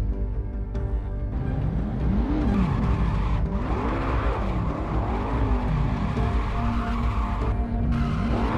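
Car drifting in the Assetto Corsa racing game, with tires squealing in repeated rising and falling swoops over a steady engine drone. The sound runs loud and continuous throughout, with no talk.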